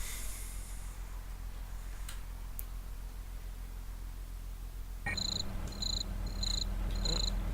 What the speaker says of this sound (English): seems like loud crickets